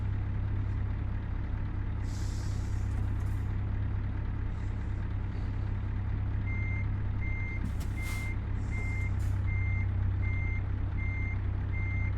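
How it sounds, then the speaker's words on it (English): A truck backing up in a truck simulator video game, its reverse alarm beeping evenly and repeatedly over a steady low engine drone, with brief hissing air bursts and no speech. "Haven't reversed the truck in a couple weeks, so we'll see how this goes."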